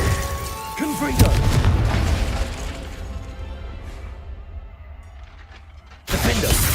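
A Confringo fire spell blasts off in Hogwarts Legacy with a sharp booming burst at the start, then a rumbling crackle that fades out. A second loud hit cuts in near the end, and a voice calls out spells over the action.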